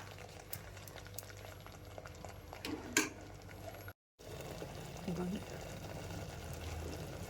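Masala with kasuri methi frying in a pan, a quiet steady bubbling sizzle with occasional stirring scrapes and clinks, running continuously apart from one brief cut.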